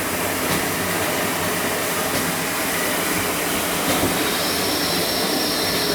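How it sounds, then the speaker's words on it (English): A steady, broadband hissing rush with a faint high whine from a steam locomotive's injector singing as it feeds water into the boiler, continuous throughout. "That singing noise is the injector doing its job, putting water into the boiler."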